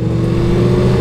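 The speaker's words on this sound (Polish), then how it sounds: "Kurde, fajny ten silnik, ten crossplane jest" Yamaha R1 sport motorcycle with a crossplane engine running at steady revs, a loud, close, throbbing drone with strong low harmonics that holds constant throughout, with no speech over it.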